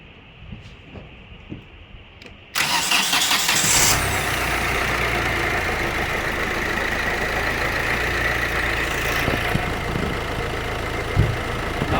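A diesel engine cranks and catches, then settles into a steady, rumbling idle that continues close by without a break.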